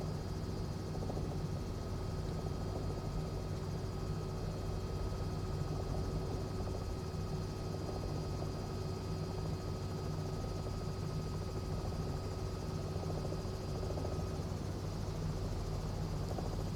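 A Cowansim Robin helicopter in Microsoft Flight Simulator 2020 flies traffic patterns. Its engine and rotor give a steady, continuous drone with a constant hum, moderately quiet and unbroken throughout, with no talk.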